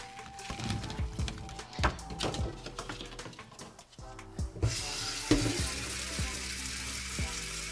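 A kitchen tap runs while fresh strawberries are rinsed, with scattered knocks and handling sounds at first, then a steady rush of flowing water over the second half.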